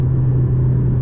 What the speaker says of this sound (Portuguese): vamos acelerar de uma forma mais agressiva em relação ao T-Cross